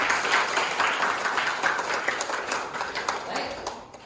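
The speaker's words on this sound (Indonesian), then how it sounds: "Tepuk tangan untuk kita semua" A classroom of students claps together at the end of a lesson, a brief, fairly even patter of hands from a small group, with some voices mingled in.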